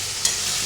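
Katla fish kalia cooking in a pan gives a brief, steady hiss of frying with a soft scrape of stirring, close up and even throughout.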